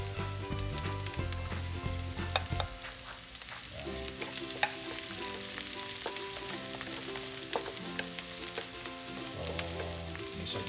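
Garlic sizzles and fries steadily alongside caramelized onions in a hot pan for a vegetarian pancit habhab, with occasional stirring scrapes and clinks over the continuous frying hiss.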